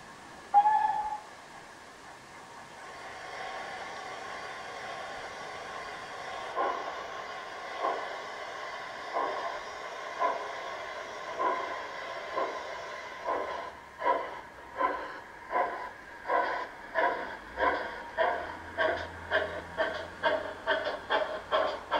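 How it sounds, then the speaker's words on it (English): A Prairie tank steam locomotive runs around its train at a terminus beyond a double-track bridge, its rhythmic chuffing growing louder and quicker as it draws nearer, with a low rumble toward the end. "After the prairie tank has completed its runaround, it will sit and simmer in contemplation of its easy trip back down"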